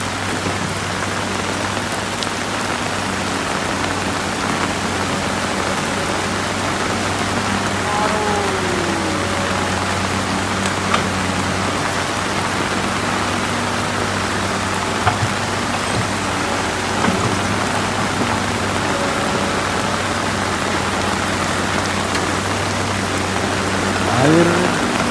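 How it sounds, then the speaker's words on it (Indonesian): Heavy rain pours down steadily on a road at Batu Jomba, a dense continuous hiss with a low background hum and no break for the full twenty-five seconds. "Hujannya tambah deras lagi bosku,"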